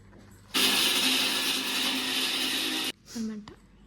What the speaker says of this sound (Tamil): இப்போ நான் இதை போய் என்ன பண்ண போகிறேன்னா அரைக்க போகிறேன்